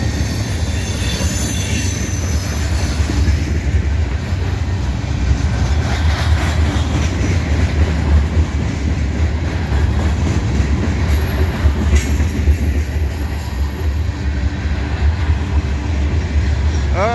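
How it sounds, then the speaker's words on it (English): A long freight train with grain cars rolls steadily past up close, its wheels clattering and rumbling loudly, with occasional metallic squeals from the rails. "Looks like a grainer to me."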